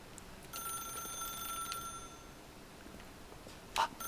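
In The Stanley Parable video game, an office telephone rings once, faint and electronic, over a quiet background, with a small click shortly after.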